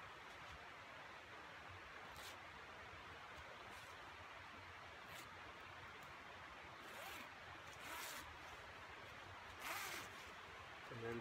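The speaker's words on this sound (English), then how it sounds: "Zip them together" Zippers on two wool sleeping bags are drawn together in a series of brief rasping pulls, spaced unevenly and getting louder toward the end, close up over a soft steady hiss.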